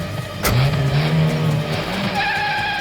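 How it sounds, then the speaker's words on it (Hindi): A car speeds off with tires skidding and squealing, a sharp engine surge followed by a sustained loud screech and revving, close and alone with no talking, in a crime drama scene. "तुम गाड़ी चलाओ जल्दी।"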